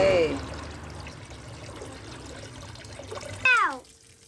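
Water pours steadily into a tub filled with toy dinosaurs, a continuous close splashing rush. Brief voices are heard at the start and end.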